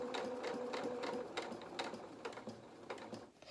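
A domestic sewing machine runs in short close bursts while stitching along a drawn line on a doll's head, with a couple of reverse stitches and brief pauses between runs.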